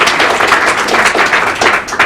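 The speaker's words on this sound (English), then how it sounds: "let's applaud for Mrs. Coley" An audience applauding Mrs. Coley, the foundation's president, at a 50th anniversary evening event, with dense, fairly loud clapping that pulses continuously without letting up.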